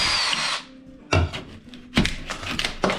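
A power drill driving screws while building a wider entryway, with a whirring burst, then two short sharp spins a moment apart, close and loud.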